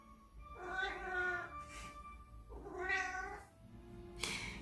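A cat meows loudly twice in long, drawn-out cries, then starts a third, close by in a quiet room.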